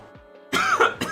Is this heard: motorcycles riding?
no